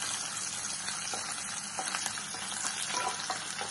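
Sliced onions sizzle and crackle in hot oil with grated coconut in a pan, prepared for Kerala-style kalathappam. Faint stirring scrapes run under a steady close frying hiss, and no one speaks.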